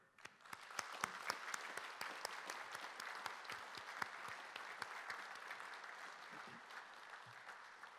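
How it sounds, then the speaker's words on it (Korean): A room full of people at a university president's inauguration ceremony claps steadily for several seconds, dense and even, with scattered sharper claps standing out. "뜨거운 축하의 박수를 보냅니다."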